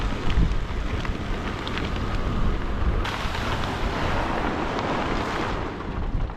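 Strong wind blows outdoors on a farm where a plastic silage bag is being loaded, a loud, steady roar with gusty buffeting across the microphone throughout.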